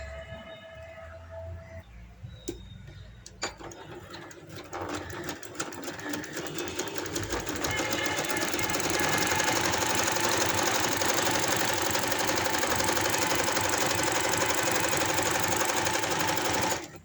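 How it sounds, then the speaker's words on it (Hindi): A sewing machine stitches the straight seam joining the front and back pieces of palazzo pants, starting with a few clicks and slow stitches, then running at a steady fast whirring pace, close and loud. "तो मैं ये सिलाई लगाती हूँ सबसे पहले।"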